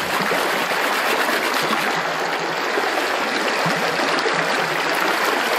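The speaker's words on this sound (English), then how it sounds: "you can scoop water out of this pan and shake it right back into the pan" Water shaken from a banjo pan splashes back into a second pan, a steady, close and fairly loud rush of sloshing and trickling that runs without pause and with no talk.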